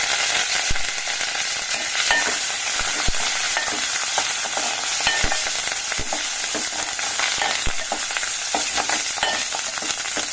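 Green chillies and curry leaves fry in hot oil in a pan for a besan curry, a loud, dense crackling sizzle with sharp spatter pops and occasional stirring clinks, no voices.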